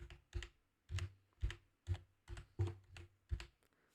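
Text typed on a computer keyboard, eight distinct firm key taps at a steady, unhurried pace, close and clear with quiet between strokes.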